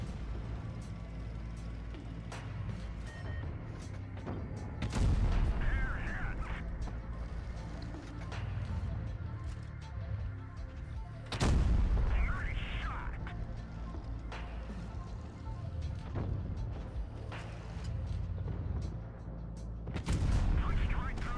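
Tank cannon fire in a competitive online tank battle game, with booming shots landing at intervals around five, twelve and twenty seconds over steady engine rumble, while players talk throughout.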